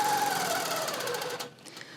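A longarm quilting machine stitches fabric along the raw edge of a quilt, a fast steady mechanical hum and needle chatter that runs loud and close before cutting off abruptly near the end.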